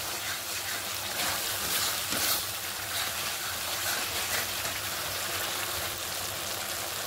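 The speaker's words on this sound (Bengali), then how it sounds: "মশলাটা সুন্দর করে কষাই নেব" Spice masala with salt and turmeric fries in a pan for a cashew paneer curry, giving a continuous broad hiss that stays even and close throughout, with no voices.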